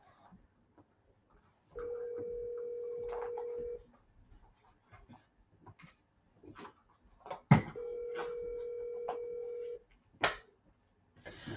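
An outgoing phone call rings back with two long, steady electronic ring tones about two seconds each, separated by a pause, with faint clicks and rustles in a quiet room between them.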